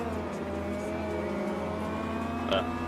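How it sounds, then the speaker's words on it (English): Race car engines in the VRChat game drone and rev at the start of a GT race, a loud sustained engine tone with rising harmonics, continuous and close. "The flag is out. The revs rise."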